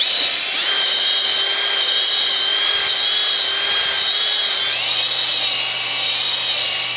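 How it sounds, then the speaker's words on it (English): Power drill spinning a hone inside a motorcycle engine cylinder, a loud, close, continuous high whine that shifts pitch partway through. "Now we need to get our cylinder. It's gonna look like this, and we're gonna hone it"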